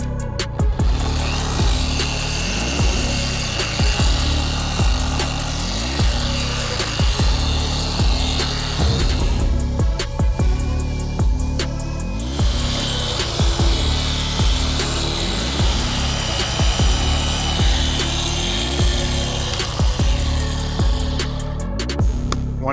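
A polisher runs at speed 6, cutting compound into car paint while prepping for ceramic coating, with a steady close whine that pulses rhythmically as the pad sweeps in overlapping passes, briefly easing near the middle.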